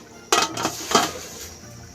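A metal lid clanks down onto a cooking pot of simmering squash for ginataang crabs, with a sharp clatter followed by a second rattling knock, close and clear.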